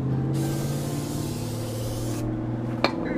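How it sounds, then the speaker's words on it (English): Brake cleaner sprayed from an aerosol can onto a welded differential, a steady loud hiss lasting about two seconds before stopping, followed by a brief clank. "Kill it with brake clean"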